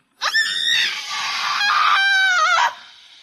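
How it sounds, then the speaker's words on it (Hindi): A woman's loud, drawn-out pained scream in a horror tale, rising sharply, holding for about two seconds with wavering pitch, then breaking off abruptly; close and alone. "दर्द के मारे बंजारन चीख पड़ी"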